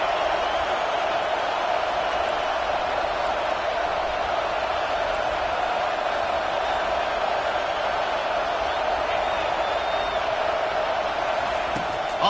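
Stadium crowd in a college football video game, Michigan State versus Miami, roars as a loud, steady, dense wash of noise throughout, with no distinct voices standing out.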